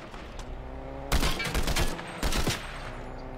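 Gunfire in the Fortnite video game: two loud bursts of rapid shots, one around the middle and another shortly after, standing out sharply over a steady game background.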